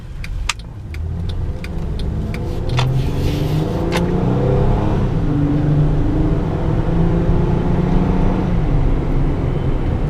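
A 2012 Honda Pilot EX-L 4WD accelerates steadily, its engine note building from a low rumble into a sustained, rising drone heard from inside the cabin, with a few clicks at the start.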